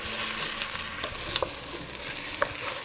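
Pumpkin risotto stirred after a ladle of broth goes in, a gentle bubbling simmer with soft spoon scrapes and occasional light taps against the pot, steady and close.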